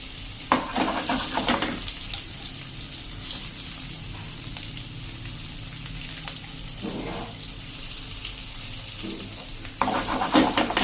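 Cabbage patra slices shallow-frying in a pan over a gas flame on low to medium heat, a steady close sizzle with a few scraping turns of a spatula and clinks against the pan.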